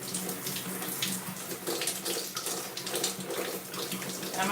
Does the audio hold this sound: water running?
yes